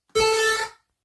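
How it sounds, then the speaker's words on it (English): The Super Mario Bros. jump sound effect from a video game, retuned to a single pitch, rings out as one bright, buzzy tone lasting about half a second, then a second hit starts right at the end. "Let's import the Mario jump sound."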